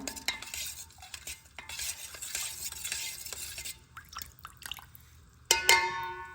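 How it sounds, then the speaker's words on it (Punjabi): A spoon stirs sugar into homemade sardai drink, with close, continuous scraping and clinking against the vessel, a short pause, then a brighter metallic clink near the end. "ਆਪਾਂ ਇਹਦੇ ਵਿੱਚ ਸ਼ੱਕਰ ਮਿਲਾਵਾਂਗੇ ਹੁਣ ਆਪਾਂ ਇਹਨੂੰ ਚੰਗੀ ਤਰ੍ਹਾਂ ਮਿਕਸ ਕਰਨਾ"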